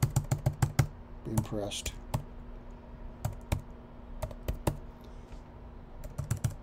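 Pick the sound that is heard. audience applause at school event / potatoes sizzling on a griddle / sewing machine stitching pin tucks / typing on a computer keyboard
typing on a computer keyboard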